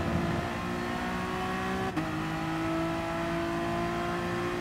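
A Honda NSX race car in Gran Turismo Sport slides through a corner at Catalunya. It gives a steady, loud engine drone with a sustained tonal whine, and a brief dip midway.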